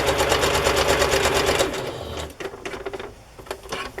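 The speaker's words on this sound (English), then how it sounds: "you don't want to listen to my sewing machine" A sewing machine stitches through fabric on a journal cover, running in a steady fast rhythmic whir for about two seconds, then slowing into shorter bursts and stops, close and loud with no talking.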